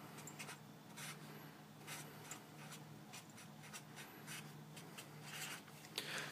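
A pen or pencil writes out a math solution for a function's domain, producing faint, close scratching strokes in short irregular bursts over a low steady hum, with no talking.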